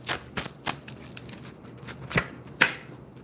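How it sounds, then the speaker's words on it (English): Playing cards are shuffled and slapped down on a surface in a series of crisp, close riffles and snaps, irregularly spaced, with two louder card slaps near the end. "Let's throw a couple more cards down"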